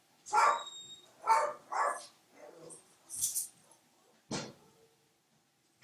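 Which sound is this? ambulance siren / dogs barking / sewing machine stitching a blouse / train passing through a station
dogs barking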